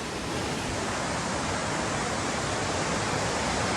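A fast, dangerous river rushes steadily and loudly with a dense, unbroken roar of churning water, close by and continuous, with no voices.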